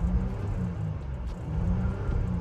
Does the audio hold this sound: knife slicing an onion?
no